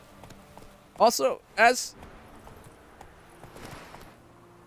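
Roach, Geralt's horse in The Witcher 3, trotting with soft clip-clop hoofbeats, partly under someone talking who speaks two short phrases over it.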